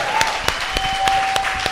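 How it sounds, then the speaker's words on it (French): Applause during a podcast recording: sparse, distinct claps from a small group, landing in a loose rhythm with a steady tone humming in the background. "Applaudissez-le!"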